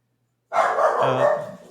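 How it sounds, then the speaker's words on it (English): A small Boston Terrier barks, one sustained, upset bark or yelp that breaks out suddenly from silence, close and loud, with no talking. "It is my dog Petey, a little Boston Terrier who gets upset when people walk by"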